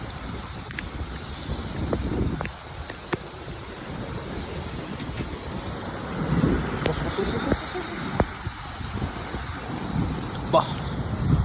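Stormy winter sea on the Alexandria corniche, with steady roaring wind and surf buffeting the microphone beneath someone speaking briefly.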